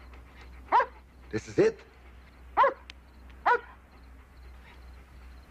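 A dog barks and yips several times in short separate bursts, fairly close, with brief speech nearby.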